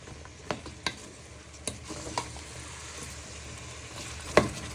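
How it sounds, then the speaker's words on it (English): Prawns and green beans sizzling in a pot while being stirred, a soft steady fry with scattered clinks and scrapes from the spoon. "So you want to give this a little bit of a stir for a few minutes"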